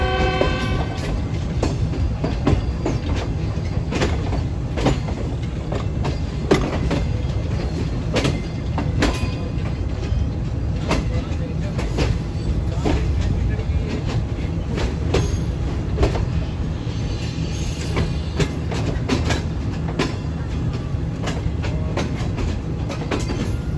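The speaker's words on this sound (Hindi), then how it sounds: "वो गुड्स ट्रेन है जी, वो गुड्स ट्रेन है" A goods train rolls past on the railway near Lahore Junction, a loud, steady rumble with repeated clickety-clack wheel beats continuing throughout, no voices.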